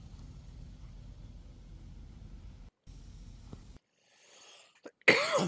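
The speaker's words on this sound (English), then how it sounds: "Sorry, I'm coughing, guys." Quiet room noise breaks off, then a single sharp, loud cough bursts out near the end, close and abrupt.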